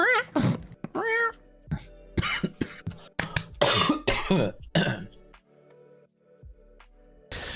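A cat meows several times nearby, short tonal calls mixed with coughing and throat-clearing sounds in a quiet room.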